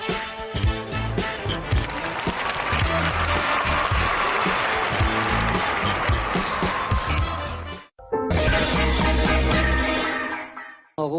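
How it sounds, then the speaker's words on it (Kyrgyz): A studio audience at a Kyrgyz TV show claps loudly and steadily to see off departing guests, the applause breaking off briefly before resuming. "Рахмат анда кол чабуулар менен конокторубузду узат коелу."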